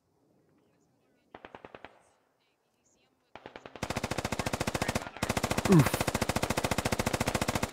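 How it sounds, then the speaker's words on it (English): Machine gun fire in the Squad video game comes as a short burst, then long, fast, loud automatic volleys that run almost unbroken with a brief gap; a voice lets out a short exclamation. "I hear some shits, some shots, more shots. I think there's just long range."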